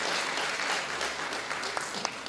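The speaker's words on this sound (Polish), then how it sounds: "Wielkie brawa jeszcze raz dla jury, poproszę." At the Miss Ziemi Michałowskiej 2014 beauty pageant, the audience claps for the jury in a short, dense burst of applause, with a few sharper claps standing out toward the end.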